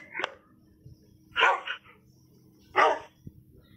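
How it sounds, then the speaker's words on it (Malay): A dog barks three times, sharp and close, with spaced pauses between the barks over a faint low hum. "Kecuali ini anjing gua."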